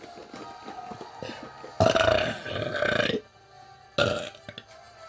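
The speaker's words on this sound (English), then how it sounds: "I burp like a guy" A woman lets out several loud, deep, guttural burps close to the microphone, one long rumbling belch followed by a shorter one after a brief quiet gap.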